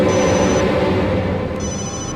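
A telephone rings in a tense horror film scene, a thin electronic trill that sounds in two bursts over a loud, dense dramatic backing score.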